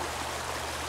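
Creek water runs steadily over rocks in a small stream, a continuous close rushing and babbling with no break and no voices.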